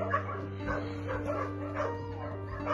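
Dogs at an animal shelter bark and yip repeatedly at a moderate distance over a constant low hum, with occasional whimpering.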